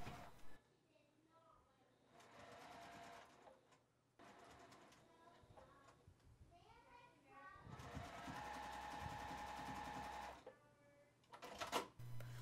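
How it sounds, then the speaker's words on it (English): A sewing machine stitching the corners of a bench cushion, running in several bursts of rapid whirring separated by pauses, with some quiet voices in the gaps. "We're just gonna stitch down using our 1/2 inch seam allowance and go ahead and do that on all four corners."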